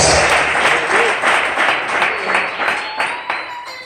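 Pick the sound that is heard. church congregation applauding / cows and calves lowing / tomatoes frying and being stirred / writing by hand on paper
church congregation applauding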